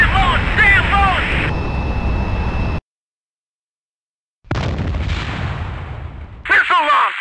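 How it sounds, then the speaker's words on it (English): Combat flight sim audio: loud rumbling bursts of a surface-to-air missile launch and in-game jet noise in Strike Fighters 2, cut by a sudden gap of silence, with radio voice callouts heard over the roar. "Missile launch!"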